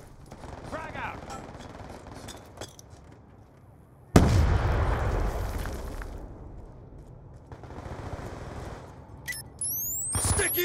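A frag grenade goes off in Black Ops 2, a sudden loud blast with a heavy low rumble that decays over a couple of seconds amid scattered gunfire and game effects; a voice talks faintly before it.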